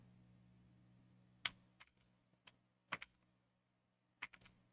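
Sparse clicks from a computer keyboard: a handful of isolated key presses and small clusters spread over several seconds, close but quiet, over a faint low electrical hum.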